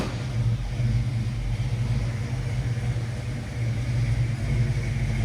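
A restored 1952 Chevrolet 3100 pickup with a 350 V8 idles steadily with a deep, even rumble, close and continuous, with slight swells in loudness but no sharp revving.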